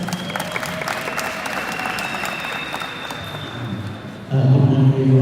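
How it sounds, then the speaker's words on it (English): Crowd applause at the opening ceremony of a Zone 6 volleyball club championship, steady sustained clapping filling the hall for several seconds before a louder, closer burst near the end. "Let's give them a round of applause."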